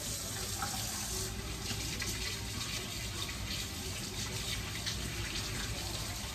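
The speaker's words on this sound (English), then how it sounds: "I'm going to wash my hands" Tap water runs steadily from a faucet into a kitchen sink during hand washing before cooking sausage brats, a continuous close splashing hiss with no talk.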